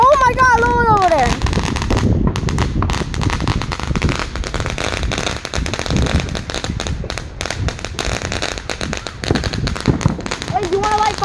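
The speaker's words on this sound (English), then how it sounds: "we got a bunch of fireworks" Fourth of July fireworks bang and crackle without pause, a dense run of sharp near and distant bursts at dusk, with a rising whistle at the start and another near the end.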